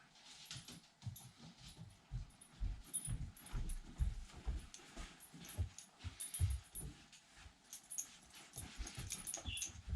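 A dog moves and breathes close by, with soft whimpers, snuffles and thumps recurring irregularly over a quiet room.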